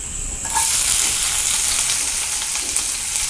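Oil crackles and sizzles continuously as onions and curry leaves fry in a pan, a bright hissing that jumps up after a moment and holds steady.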